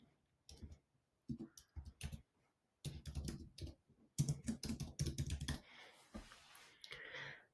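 Someone types a site title on a computer keyboard, producing soft, close clicking keystrokes in short irregular bursts with pauses between them, and no talking.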